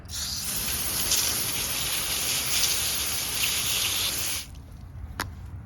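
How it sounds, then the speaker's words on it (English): Garden hose water sprays loudly and steadily over rusty O gauge tubular track for about four seconds, then cuts off, leaving a quieter room with a single sharp click. "come over to the garden hose, or you can do this in your sink, but we're going to rinse it off with water"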